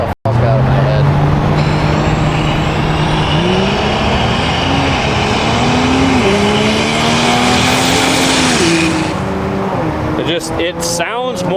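A truck engine idling and revving with a harsh, aggressive growl, loud and close, its pitch climbing and dipping through several throttle blips before cutting out near the end.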